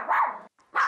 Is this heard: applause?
no